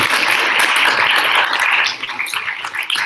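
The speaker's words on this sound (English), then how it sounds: "Please, one more round of applause, please, for both" Audience at a debate grand final applauds in a loud, dense wash of clapping that holds steady, then thins slightly toward the end.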